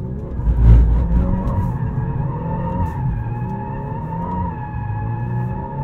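A 2023 VW Golf R manual drifts with ESC off in drift mode, tires skidding and squealing in a long sustained howl over the engine drone. The squeal swells sharply near the start, then holds steady and loud.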